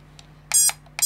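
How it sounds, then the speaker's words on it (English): A 3-inch ImpulseRC Micro APEX FPV drone sounds its buzzer through the motors: a faint short chirp, then two loud electronic beeps, a brief soft one, and a final loud beep, close up in a quiet room. "That's my buzzer, which is done off the motors."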